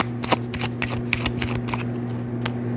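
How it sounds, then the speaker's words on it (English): Tarot cards are shuffled in a series of quick, crisp riffling and slapping bursts, close by and fairly quiet, over a faint steady hum. "Sorry, that wasn't a good shuffle."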